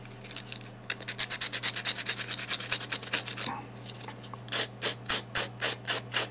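Sandpaper rubs over a watercolor paper jewelry pendant in quick, regular back-and-forth strokes, close and clear. After a short pause, slower, louder scraping passes follow.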